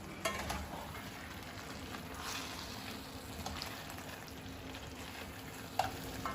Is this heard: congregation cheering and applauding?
no